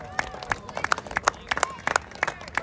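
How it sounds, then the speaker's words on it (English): Scattered spectators clapping at an under-12 girls' rugby league gala day match, a loose irregular patter of claps from a small nearby crowd with voices chatting over it. "Oh, they're clapping at her."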